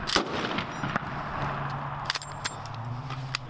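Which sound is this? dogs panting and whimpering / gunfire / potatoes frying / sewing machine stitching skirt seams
gunfire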